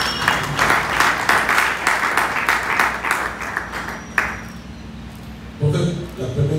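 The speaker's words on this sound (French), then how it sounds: "Acclamons très fort." Applause from a conference audience, a dense run of clapping that holds for about four seconds and then thins out, followed by brief scattered claps and a voice starting up near the end.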